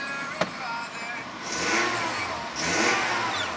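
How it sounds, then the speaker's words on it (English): A 2015 Nissan NV200 S van engine with 300,000 miles revs up twice in strong surges, rising and falling, heard up close with a steady, smooth idle between. "Revs up nicely, it idles smoothly."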